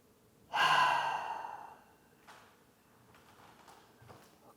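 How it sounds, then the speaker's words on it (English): One long, full exhale during a yoga pose for lower back release, close and airy, trailing off into a quiet room with faint soft movement noises. "Breathing fully. Letting your low back move with the breath."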